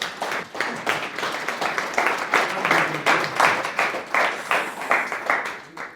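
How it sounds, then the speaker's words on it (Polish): Audience applause at a presentation on HYDRASTAT technology, a smaller group clapping in a rhythmic, pulsing pattern with distinct beats, moderately loud and continuous for several seconds. "Dajcie mu brawa, Was bardzo proszę."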